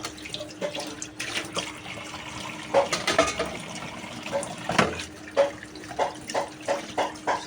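Dishes being washed under a running kitchen tap, a steady stream of water with repeated splashes and clinks of rinsed plates, fairly close.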